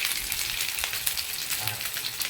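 Several pieces of food sizzle and crackle steadily in a hot pan, with a constant close, bright hiss and occasional pops and no talking.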